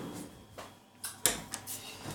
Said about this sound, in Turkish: Şimdi buzdolabımızı açıyoruz arkadaşlar.